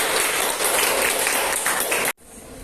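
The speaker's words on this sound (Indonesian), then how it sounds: "Tepuk tangan untuk semua kelompok." Dense applause from a class of students fills two seconds, then cuts off abruptly, leaving faint room noise.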